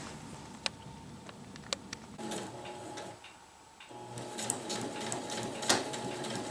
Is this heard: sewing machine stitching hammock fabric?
yes